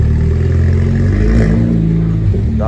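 An Aston Martin DB11 V8 Volante blipped on the throttle, a loud close engine rev that swells and settles back into a deep rumbling idle, steady throughout.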